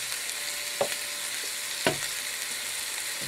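Green beans adobo fry in a pan with a steady close sizzle, broken by two sharp utensil knocks as the beans are stirred.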